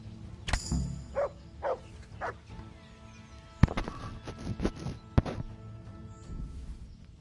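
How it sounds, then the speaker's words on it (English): A dog in a video game barks and snarls in several sharp, loud bursts, spaced irregularly over a rumbling game backdrop, with a few brief growls between them. "That's a dog."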